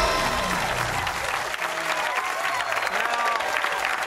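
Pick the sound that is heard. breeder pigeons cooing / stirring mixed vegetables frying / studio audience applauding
studio audience applauding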